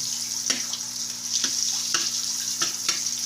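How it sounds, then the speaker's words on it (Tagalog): Butter melting in a hot pan for pork chops, a steady bright sizzle with a few soft knocks of stirring at irregular intervals, close and continuous with no talking. "tunawin lang natin tong butter"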